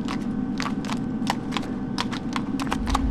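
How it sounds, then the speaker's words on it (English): Agro the horse gallops in Shadow of the Colossus, with rapid, regular hoof clops sounding over a steady low rumble and no voice. "Gallop, gallop, gallop"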